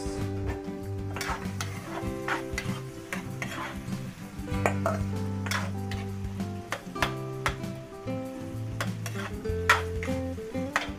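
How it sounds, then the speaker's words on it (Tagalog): Garlic and onion sauté in a hot pan, a steady sizzle broken by repeated scrapes and clinks of a utensil stirring against the metal, close and continuous. "Luto-lutoy lang po muna natin saglit yung ating panggisa."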